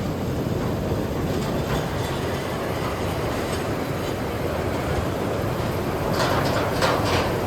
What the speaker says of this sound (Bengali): এই যে রোপওয়ে আসছে,